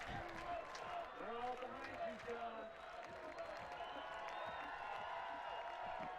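Crowd at an IFSC Bouldering World Cup final in Vail cheering and chanting a climber's name, a rhythmic chant early on settling into a continuous roar, heard faintly behind an announcer's commentary.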